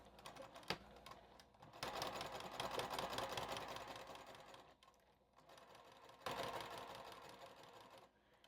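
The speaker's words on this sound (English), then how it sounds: "Just going to sew right on that edge there." A sewing machine stitches along the edge of a zipper pouch, a quiet, rapid mechanical whir running in two longer stretches separated by a short pause.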